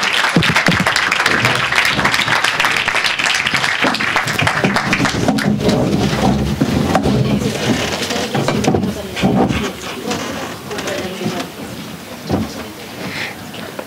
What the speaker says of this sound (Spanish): Un aplauso, por favor, a las expositoras.